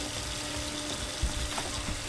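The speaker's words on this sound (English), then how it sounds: "Somebody left the water running." Running water left on in a paranormal PC game gives a steady, close hiss with a faint hum and a few small bumps, no voices.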